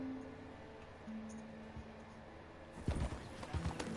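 A horse's hooves in the video game Red Dead Redemption, quiet at first over faint game tones, then a burst of close, rapid clip-clop footfalls in the last second.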